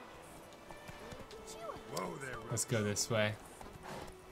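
Horse hooves clip-clopping in The Witcher III Wild Hunt, a steady near trot running under someone talking, with the galloping beats growing louder toward the end.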